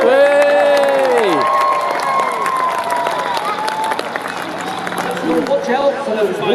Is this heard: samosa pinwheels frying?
no